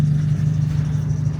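A Renault race car drives past at a rally-style event, its mid-pitched engine note steady and loud for a brief moment, with no voices over it.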